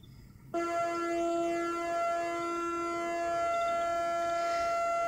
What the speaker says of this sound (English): Now you can both see and hear the pulse width changing.